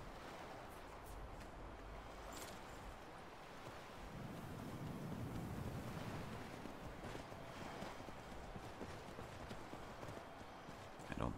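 Horse hooves gallop steadily in Skyrim Special Edition, a continuous rhythmic clatter over windy, watery ambience that swells slightly midway and carries on throughout.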